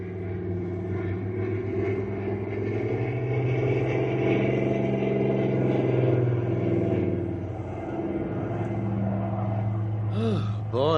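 Steady droning engine rumble from a cargo plane descending toward a runway, a continuous loud hum with little change in pitch, closing with a brief rising whine.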